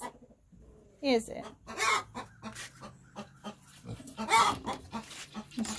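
Backyard chickens clucking and squawking close by in a loud, uneven burst, mixed with a person speaking briefly between the calls.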